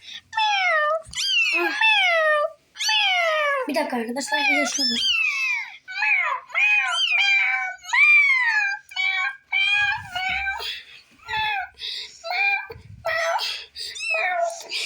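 Many high, drawn-out meows from several kittens overlap in quick succession, close and loud, with a person briefly speaking among them.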